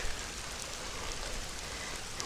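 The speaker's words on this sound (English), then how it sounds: "Who says it doesn't ever rain in California? I'll take this. I'll accept this as rain." Light rain falling in California, a constant soft hiss of drops spattering on surfaces, steady and close with no voices.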